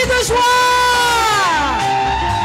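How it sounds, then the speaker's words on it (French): A church congregation at a French-language worship service yells and whoops for joy together, a loud, sustained crowd shout that rises and falls over roughly two seconds. "Des cris de joie, des cris de"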